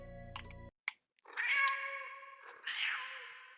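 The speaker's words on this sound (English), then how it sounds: "I'm merely demonstrating that this shows the cat's meow" A cat in the FMV video game Dark Nights with Poe and Monro meows, a drawn-out, wavering cry heard twice, close and clear after a brief electronic buzz and a moment of silence.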